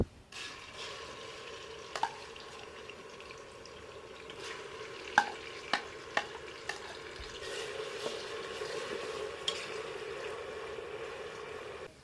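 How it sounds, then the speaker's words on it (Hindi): Steady hiss of 400 grams of blended onions frying in hot oil, with occasional clinks and scrapes of a utensil stirring in the pan. "अब यहाँ पर ऑयल गर्म हो रहा है तो इसमें मैं 400 ग्राम प्याज डाल दूँगी।"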